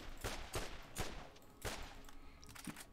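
An odd weapon in the video game Borderlands fires several distinct heavy bursts, roughly four spaced shots with crackling tails, loud and close with no talk over them.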